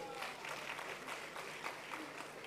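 Steady applause from a banquet audience at a royal birthday dinner for an Ashanti king, continuous clapping at moderate distance throughout.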